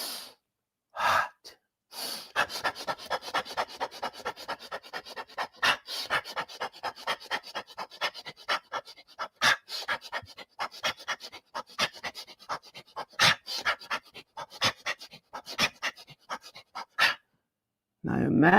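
Rapid, rhythmic panting breaths at the fourth speed of Kemetic yoga breathing, a fast steady run of sharp huffs close to the listener, with a few louder gasps at the start and end and no talking.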